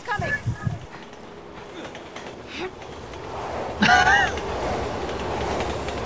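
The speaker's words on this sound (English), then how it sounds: "Train's coming!" A subway train rushes past in the video game Resident Evil 6, a rising rumble with rail squeal and clatter growing louder toward the end, while a person talks over it.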